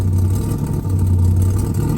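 A barn-find 1970 Plymouth Road Runner with the V-code engine and a slight exhaust leak runs loud and close, a steady deep rumble holding for the full two seconds with only small swells.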